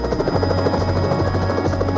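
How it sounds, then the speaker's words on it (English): Police helicopter flying overhead with a steady, loud rotor drone and rhythmic blade chop that holds without a break, no voices over it. "The helicopter can see the overall picture."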